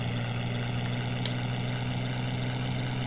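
A biplane's engine drones steadily in the Knights of the Sky Amiga video game as it takes off, a continuous loud buzzing hum with one brief click partway through.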